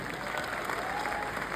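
A crowd gives enthusiastic applause for a vice president at a business gathering, a thick, continuous patter of many hands clapping at even strength throughout the brief moment.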